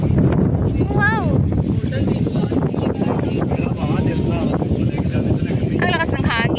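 Strong gusting wind on the Shing Mun Reservoir trail near Pineapple Dam buffets the microphone with loud, continuous low rumble, while people talk and exclaim over it.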